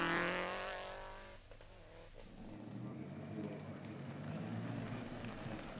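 A rally sprint car races on a stage in Kitee, its engine revving loud and close, then dropping into a steady, more distant drone of driving.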